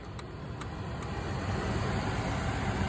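A steady electric heater blower motor from a Renault Clio 3 whirs continuously at close range, an even hum with a faint airy rush and no change in pitch.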